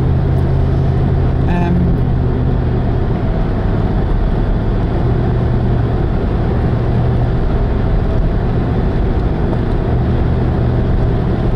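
Car interior while driving on a road in British Columbia, with steady loud engine and road rumble throughout and someone talking over it.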